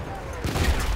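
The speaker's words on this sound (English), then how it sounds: "Enemy machine gun." Enemy machine gun fire in Battlefield 1, a dense rattling burst that rises over roughly the second half of a one-second moment, fairly loud amid the game's battle noise.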